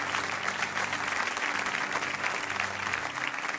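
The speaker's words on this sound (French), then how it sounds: "Donne un bon amen à Jésus. Acclame le Seigneur, ton Dieu" Church congregation applauding during a French-language prayer service, a dense sustained clapping that stays loud and steady throughout.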